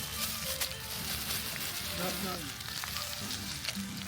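Onions sizzle and fry in hot oil for a rooster curry cooked outdoors in a park, a steady crackling hiss with people talking nearby.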